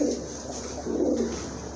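A pair of pet pigeons give soft, throaty coos in two close bursts against a low background hum, nearby and fairly quiet.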